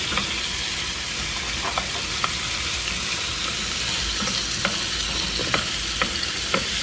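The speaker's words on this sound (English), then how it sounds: "And saute these up until they're just a little bit tender." Vegetables sautéing with a little sea salt in a pan: a steady close sizzle and frying hiss runs throughout, with faint intermittent scrapes and clicks of stirring on top, no voices.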